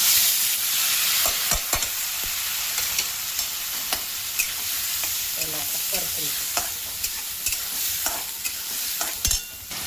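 Chopped onion with cumin sautéing in a pan for an egg ghotala, a steady sizzle under repeated scrapes and clinks of a spoon stirring, close and without speech.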